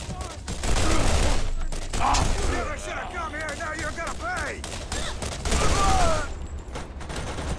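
A turret fires in Borderlands, rapid bursts of gunfire and explosive cracks in a hectic fight, loud and dense, with game effects layered over it and a voice talking at times.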